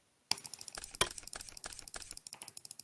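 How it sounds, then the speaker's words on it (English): A player's computer keyboard or mouse clicking away in rapid, uneven bursts of sharp taps, close and fairly quiet, with no voices over it. "he asked if we could hear him clicking, and we said yes. So he clicking."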